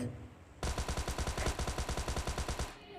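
Automatic rifle fire in PUBG Mobile Lite, a sustained loud burst of rapid, evenly spaced shots lasting over two seconds after a brief quieter lead-in, with no talk.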